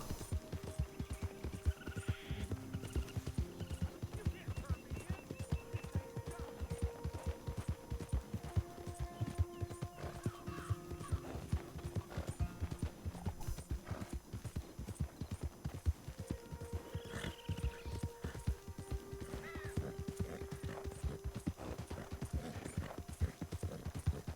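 Horse hooves clip-clop steadily through the whole stretch in Red Dead Redemption 2, close and even-paced under a bed of game music, with an occasional whinny.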